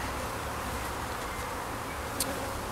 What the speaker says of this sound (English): So there's still a load of bees in the box here.